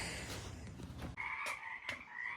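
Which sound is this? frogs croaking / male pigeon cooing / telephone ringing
frogs croaking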